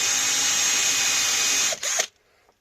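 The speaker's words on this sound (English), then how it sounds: "reverse drill with lots of pressure" A power drill runs at full speed in reverse under heavy pressure, cutting a gasket hole on a piece of teak, a loud steady whine that breaks into a couple of short bursts before stopping abruptly into near silence.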